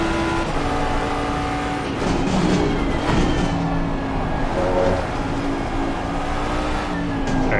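A racing video game car engine roars steadily at full throttle at Suzuka, a continuous loud high-rev drone with shifting pitch and no talking.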